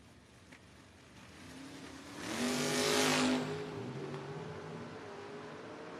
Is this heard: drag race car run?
yes